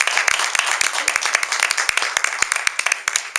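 A scattered round of hand clapping at a festival opening ceremony, fairly sparse and uneven, with individual claps standing out over a light murmur.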